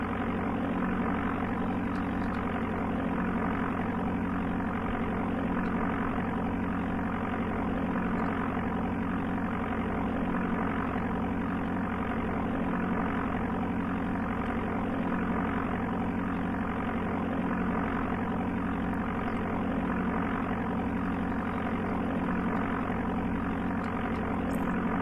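Steady, loud propeller-aircraft engine drone from the Amiga game Flight Simulator II, flying from Detroit Metro Wayne County to Capital City, holding an even, unbroken tone throughout with no talking.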